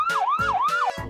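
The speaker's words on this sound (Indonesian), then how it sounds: "Dan ada mobil ambulan." An ambulance siren wails in a rising and falling electronic tone, repeating three times in quick succession, loud and close.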